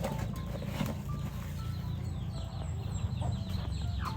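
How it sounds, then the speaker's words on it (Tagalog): Chicks peep in a chorus of thin, repeated high chirps over a steady low background rumble, fairly close, with occasional clucks and no talking. "Ayan yung mga sisiw natin dito, guys."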